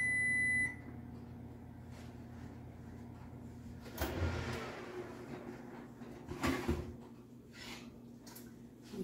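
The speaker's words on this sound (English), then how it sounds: "Well, and the timer is ringing." A kitchen oven timer gives a short electronic beep at the very start, then stops, leaving quiet kitchen clatter and movement with no talking.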